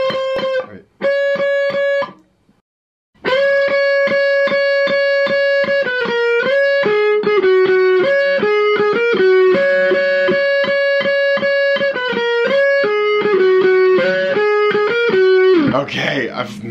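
Clean, bright electric guitar lead from a song, with slides up the neck; a few plucked notes, a brief pause, then a steady run of ringing single notes, close and alone.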